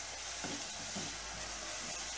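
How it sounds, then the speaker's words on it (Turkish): Onion and peanuts sautéing and being stirred in a pan, a steady close sizzle with soft scraping strokes throughout, no voices. "Biraz da fıstıkları kavuracağım."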